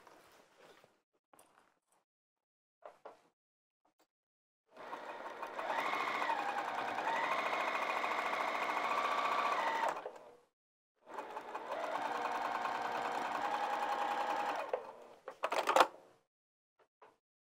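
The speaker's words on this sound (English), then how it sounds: "let's top stitch to hold that seam down all the way across" A sewing machine top stitches a seam across a fabric bag in two steady runs of about five and four seconds, separated by a short pause, with light handling clicks before and after and no talk.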